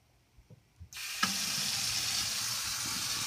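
Sink tap turned on during a leak check, water gushing steadily into the basin after a few soft knocks, a loud continuous rush that holds on without talk.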